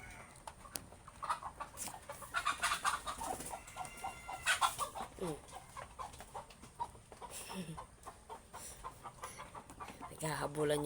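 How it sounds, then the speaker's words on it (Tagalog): Chickens cluck and squawk intermittently at close range, with bursts of fluttering and scuffling activity amid background rustle. "Naghahabulan yung mga manok."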